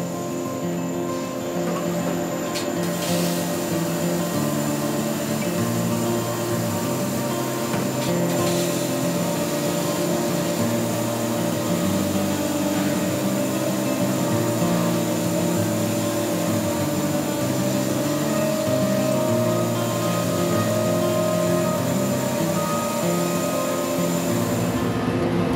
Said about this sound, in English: which gets milled out of billets of aluminum.